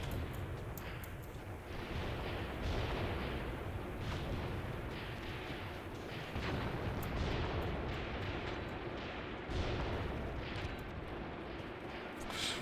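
Heavy gunfire and explosions from the war game Graviteam Tactics, a continuous dense roar of shots and booms that stays loud and steady throughout, with no voices.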